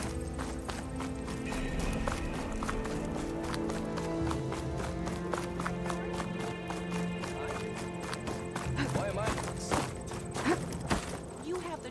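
In Horizon Forbidden West, a horse's hooves clatter in a quick, steady rhythm through the whole stretch, mixed with game music and ambient effects, while a voice speaks.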